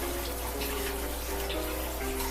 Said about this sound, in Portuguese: vou deixar que o líquido saia ali no balde